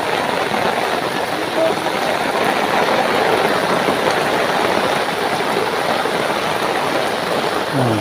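Floodwater rushes steadily during Typhoon Carina in Sitio Saguingan II, San Isidro, Montalban, a continuous loud wash of flowing water that fills the whole clip and stays unbroken from start to finish.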